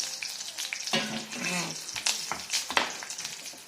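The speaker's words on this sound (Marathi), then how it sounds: "मंद आचेवर हे भाजून घ्यायचं वरून झाकण ठेवायचं" A thalipeeth flatbread roasts in a pan over a low flame, giving a soft, steady sizzle with light crackles and scraping touches across a few seconds.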